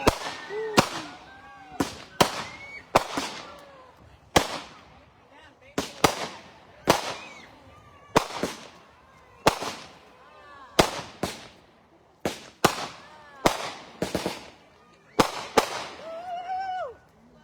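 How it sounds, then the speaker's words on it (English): Vesak fireworks at a Buddhist temple in Indiana, a long series of sharp, loud bangs bursting singly and in quick pairs at irregular intervals, with crackling tails and faint crowd voices between them. "Now we can see fireworks coming up."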